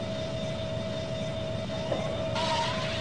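Boeing 777 jet engines spooling up for takeoff in a flight simulator game, a steady loud whine with a sustained tonal hum that brightens and grows into a broader roar near the end.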